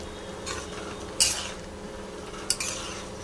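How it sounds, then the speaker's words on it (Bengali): A spoon stirring mushroom curry with garam masala in a pan, soft scraping with two sharp clinks against the metal, quiet and without talk. "এবার নাড়িয়ে নেব, একটা নাড়াচাড়ি করে নেব।"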